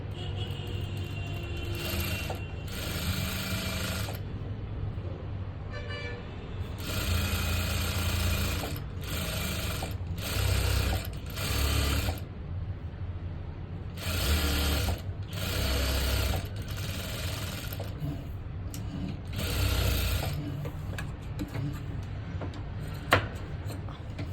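A sewing machine stitches fabric with its lining in repeated bursts of rapid mechanical clatter, separated by short quiet gaps, fairly close and alone without talk.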